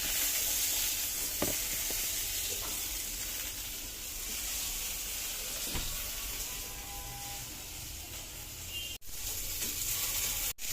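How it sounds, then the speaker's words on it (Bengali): Potatoes fry in a pan with a soft, continuous sizzle and occasional faint stirring clicks, quiet and steady with no one speaking. "এখন আলুগুলোকে একটু ভাইজা নিচ্ছি"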